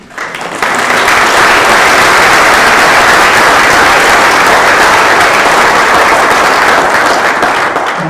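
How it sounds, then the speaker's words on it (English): A forum audience breaks into a big round of applause for a local investment firm, dense and loud clapping that swells in within the first second and holds steady to the end. "give Mr. Hughes and Hughes Investments a big round of applause"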